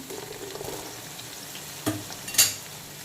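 Chopped onion frying in ghee for mixed fried rice, a soft continuous sizzle close by, broken near the end by a couple of sharp metallic clinks and scrapes from a utensil against the pan.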